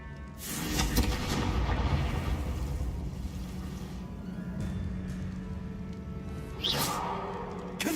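Confringo fire spell blasting in Hogwarts Legacy, a loud booming explosion with a rumbling roar that stays dense throughout, plus another whooshing burst near the end.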